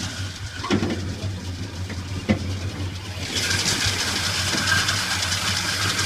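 A 1962 Pontiac Grand Prix engine runs at a steady idle close by, a low continuous rumble that swells into a louder, brighter roar partway through, with no voices.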